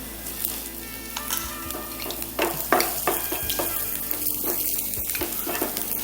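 Leftover oil from frying fish is poured into a hot pan and sizzles, a bright crackling hiss with scattered pops and scraping stirs, close and steady, with no voices.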